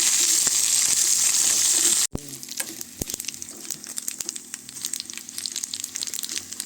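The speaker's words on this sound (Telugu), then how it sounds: "దోరగా వేపుకోవాలండి." A tempering for Andhra-style mango dal fries in hot oil, sizzling loudly at first, then settling into a softer crackle with scattered pops and stirring clicks.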